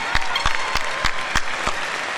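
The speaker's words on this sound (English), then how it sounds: "Give me a big round of applause." Crowd at a Lawrence High School class of 2017 graduation ceremony claps, a brief burst of applause with a few sharp, evenly spaced claps standing out close to the microphone.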